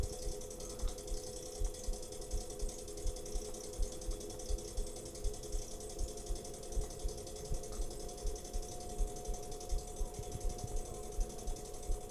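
A potter's wheel head spins steadily with a fine, rapid mechanical ticking and a low hum that stays even, close and quiet throughout, no voices present.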